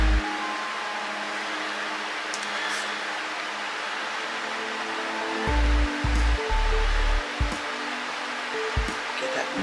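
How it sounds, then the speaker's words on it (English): Liquid poured slowly into a container while making custom book covers, a steady broadband rushing wash with a few brief splashy bursts near the end, close and fairly quiet, no talk over it. "Slow pour."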